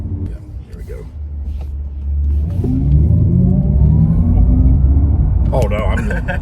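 Audi RS e-tron GT electric car launching from 0 to 60, a rising whine and rumble swelling steadily over several seconds, with people talking excitedly over it and a brief exclamation near the end.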